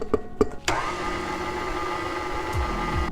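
Electric mixer whirring steadily through butter, cream cheese and powdered sugar frosting for a king cake, starting after a few clicks and running close and continuous with a slight wobble in pitch.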